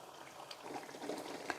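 Mango kulambu, a Tamil tamarind-style curry with mango pieces, bubbling in a pot on the stove, giving a steady close low simmering burble with small pops and no talk.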